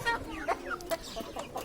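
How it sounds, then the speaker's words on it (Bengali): Four-month-old hens clucking nearby, a run of short, chirpy calls repeating unevenly across a second and a half over a faint background. "4 মাসের মুরগির বাচ্চা"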